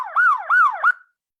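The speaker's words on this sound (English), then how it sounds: "It's simulating the the sirens." A simulated emergency siren wails in three rising-and-falling sweeps, loud and clean, then stops abruptly into silence, with no voices.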